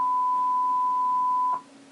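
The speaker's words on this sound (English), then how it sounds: "And then there's a loud beep." A loud, steady pure beep plays at the start of a music track in DJ software, holding one unbroken pitch for about a second and a half before cutting off to near quiet.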